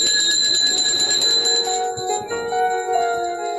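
A school bell rings with a steady, continuous metallic tone that shifts slightly in pitch partway through, fairly loud and with no voices.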